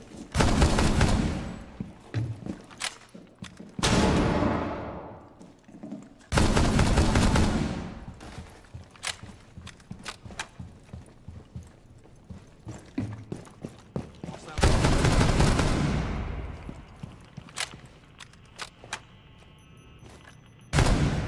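Bursts of video game gunfire from a powerful weapon come in several loud volleys separated by quieter gaps with clicks and mechanical handling sounds, with faint voices between shots.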